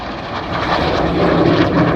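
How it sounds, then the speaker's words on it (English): Red Arrows jet aircraft flying past at the RIAT air show at RAF Fairford, a loud, broad engine roar that swells steadily over two seconds with no voices. "Each aircraft will conduct a 360-degree aileron roll before turning hard away from each other."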